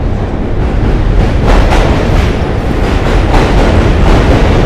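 An NYC Q subway train roars past, loud and close, with a continuous heavy rumble and faint rhythmic clatter of wheels over track joints throughout.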